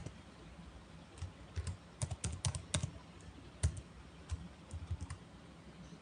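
An SQL query typed on a computer keyboard: steady, fairly close key clicks in irregular bursts with brief pauses, no voices.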